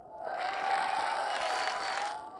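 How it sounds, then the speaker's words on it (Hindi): A studio audience claps and cheers loudly for two guest cheerleaders at a cricket-themed entertainment show, a dense, steady wall of applause that swells and holds for a couple of seconds before easing slightly. "जोरदार तालियां उन्हें."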